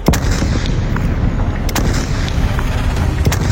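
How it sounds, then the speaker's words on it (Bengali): Relentless bombing erupts in front of Presidency College during a street riot, a loud, continuous rumble of blasts punctuated by a few sharp, cracking booms, with no voices. "প্রেসিডেন্সি কলেজের সামনে অবিরাম বোমা বৃষ্টি শুরু হয়ে গেল"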